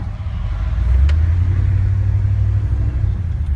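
A 1979 Ford truck engine drives along a road in Salt Lake City, a loud, deep rumble that swells as it accelerates and then holds steady, close by with no voices.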